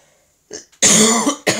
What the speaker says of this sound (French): par moments je tousse parce que je suis encombrée